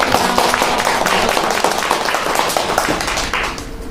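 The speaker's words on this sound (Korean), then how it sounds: "박수로 맞이해주세요." Audience applause greeting a presenter at an annual general meeting of a teachers' group, a dense, steady burst of many hands clapping that fills the room and tapers off at the end.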